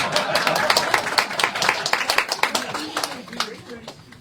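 A small storytelling audience gives brief, close, crackling hand claps that thin out and fade after a few seconds, with a voice speaking over them.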